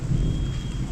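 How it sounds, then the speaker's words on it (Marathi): Steady rain falling outdoors, a continuous dense low rushing wash with no speech. "पाऊस आला."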